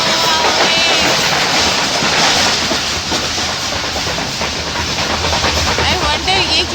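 A train rolls along the rails on a long journey from Peshawar to Karachi, a loud, steady, close rumble with rattling carriage noise that fills the whole stretch.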